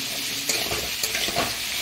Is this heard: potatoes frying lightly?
yes